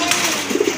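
Pigeon cooing from fancy breed pigeons kept for sale, soft low throaty coos in a short burst close by.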